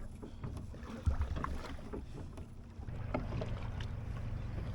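A Drascombe Lugger boat is rowed with an oar on the Irish Sea, with soft oar splashes and creaks under low, blustery wind noise.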